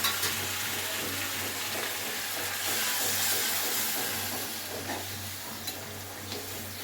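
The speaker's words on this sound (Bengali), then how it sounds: "এবার এতে গরম জল মিশিয়ে দেবো" Hot water poured into a pan of sizzling marinated chicken for chicken kosha makes a loud, continuous steamy hiss that eases slightly toward the end, with no voices.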